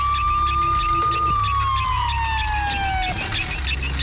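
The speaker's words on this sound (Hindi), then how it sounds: "हे, एम्बुलेंस, फौरन आओ।" An ambulance siren wails loud and close, alone, its pitch sliding slowly downward as it passes over about four seconds with no talk.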